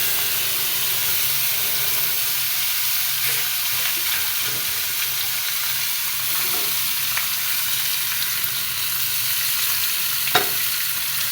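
Marinated fish frying in hot oil in a pan, a loud continuous close sizzle and hiss with occasional crackles and pops, steady throughout with no talking.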